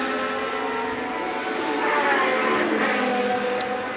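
A Rothmans-liveried March racing car roars past at Goodwood's Members' Meeting, a loud, continuous engine howl swelling slightly as it passes.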